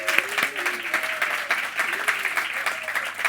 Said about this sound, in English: let's have a bit of a wave and a cheer from them so you can actually feel that there's some energy in the room